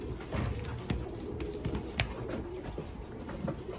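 Pigeons cooing close by, soft repeated throaty coos over a low background murmur, with a few light taps and flutters, no talk.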